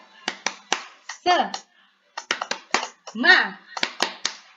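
Children perform the rhythmic 'tepuk semangat' clap in a classroom, crisp patterned hand claps in short bursts alternating with chanted group voices, two rounds separated by a short pause.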